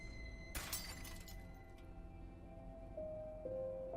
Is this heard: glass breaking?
yes